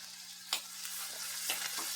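Onions and curry leaves frying in hot oil for a tuna fish fry, a steady close sizzle with a few sharp spatters and stirring scrapes, with no talking.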